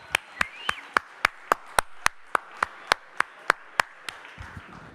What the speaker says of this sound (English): I want to give a big thank you and a round of applause to Danny.